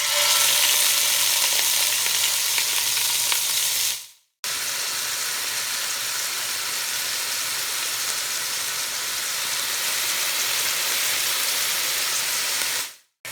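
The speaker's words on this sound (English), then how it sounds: "now we'll start frying our turkey necks in just a little bit of oil" Jerk-seasoned turkey necks sizzle and spit in a little oil over medium heat, a steady close frying hiss broken by two brief silent cuts.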